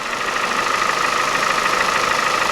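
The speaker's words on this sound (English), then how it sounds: "Here is the car finally idling." Car with a Toyota 1ZZ-FE engine idling slightly high after a misfire repair, a steady close engine drone with an even, continuous throb and no talk.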